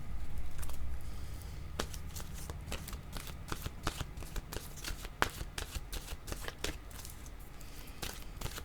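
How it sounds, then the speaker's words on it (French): Close, soft shuffling of a deck of oracle cards, with repeated riffling and sliding cards and light taps in an uneven rhythm, quiet and with no talking. "je vais demander une carte de mon oracle de l'âme intuitive."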